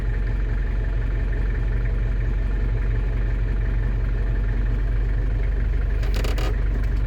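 A London taxi with an automatic gearbox idles in reverse with the brake held, giving a steady, close, low engine drone that is broken near the end by a short burst of higher noise.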